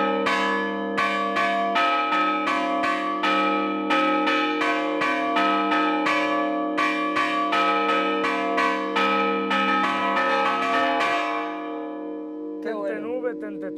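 Church bells ring repeatedly from a village bell tower in Aspariegos, Zamora, a steady series of loud resonant strikes that then fade into a lingering hum as a voice begins speaking at the end.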